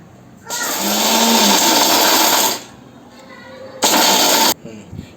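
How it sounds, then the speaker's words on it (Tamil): A mixer grinder coarsely grinds roasted peanuts in a dry jar, heard as a loud, steady whirring run of about two seconds, a pause, then a shorter burst, close and alone. "இதை ஒரு மிக்சி ஜாரில் சேர்த்துக்கலாம் குறகுறப்பாக அரைச்சி எடுத்துக்கணும்"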